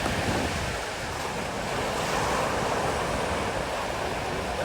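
A dense, continuous wash of sea waves breaks at the shore on a December morning, loud and steady with a roaring rush and some wind buffeting the microphone.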